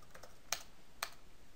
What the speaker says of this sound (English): Type in a password for the admin account.